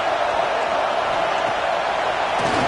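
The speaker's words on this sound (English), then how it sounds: "Listen to the crowd energy here in the early going." Stadium crowd in College Football 25, a dense continuous roar of fans early in a game, loud and steady with no clear breaks, a hostile environment for the visiting team.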